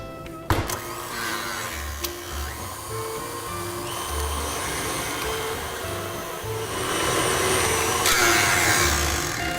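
An electric mixer whirs steadily through gingerbread cookie dough, a continuous motor whine with a rhythmic low thumping as the beaters turn, growing slightly louder toward the end.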